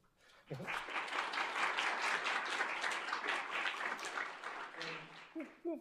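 Forum audience at a water policy event applauds a research director on staff: a dense burst of clapping from a crowd, steady for several seconds and then tapering, with brief voices at the start and end.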